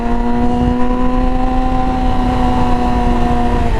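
A 600cc motorcycle engine pulling hard in riding mode A, loud and close with a steady droning hum that holds constant for the whole stretch.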